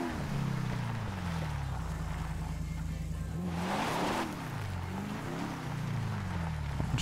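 A car in the video game GTA 5 drives along with a steady engine hum, its pitch repeatedly rising and falling as it revs and shifts, plus a brief whooshing burst midway.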